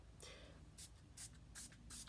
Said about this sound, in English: So I'm using my Reset Spray